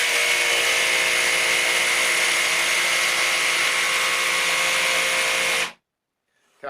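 A CAT 18V brushless jigsaw cuts through 12mm MDF on zero pendulum setting, a loud, steady buzzing cut held for about six seconds before stopping abruptly.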